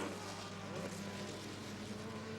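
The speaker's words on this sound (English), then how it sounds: "the prototypes, the LMP 900s, are carving through the field and lapping the Corvettes" LMP 900 prototype race cars and Corvettes at the 2002 American Le Mans Series round at Mid-Ohio, a steady distant roar of racing engines, faint and continuous throughout.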